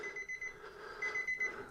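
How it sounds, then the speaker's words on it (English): Steady electronic beeping from a Nissan 350Z twin turbo's door-open warning repeats under faint background noise, a thin high tone pulsing on and off with no talking. "Sorry for the annoying beeping"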